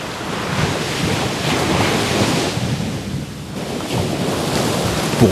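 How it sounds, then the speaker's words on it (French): The Lobé waterfall pouring into the Atlantic Ocean in Cameroon, a loud, continuous rushing roar of crashing water with wind buffeting the microphone. "les chutes de la Lobé que nous avons juste derrière nous"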